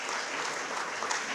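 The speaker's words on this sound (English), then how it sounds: "big round of applause to all the people who have contributed" An audience at a conference's inaugural function claps in a dense, steady burst of applause, close and even throughout, with no clear speech.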